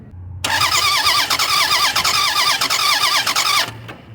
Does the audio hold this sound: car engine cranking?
yes